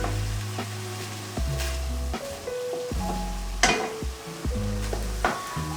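Minced meat browning in a hot pan for a cottage pie, a steady loud sizzle and crackle with occasional scraping stirs and a few clinks of utensil against the pan, no talking.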